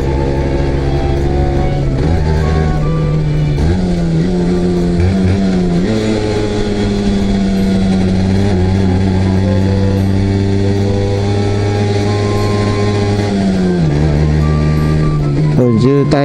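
A Honda NS-1 two-stroke motorcycle engine buzzes loudly up and down in pitch, climbing with each gear and dropping at the shifts, heard up close while riding at moderate revs, with a voice talking over it.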